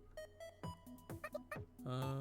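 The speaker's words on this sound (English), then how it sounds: "she lets out a staggered 3 or 4 beeps" A character in the visual novel Ghostpia gives a staggered run of electronic beeps, several short tones of varying pitch at uneven spacing, ending in a longer, louder sustained tone, with no talking.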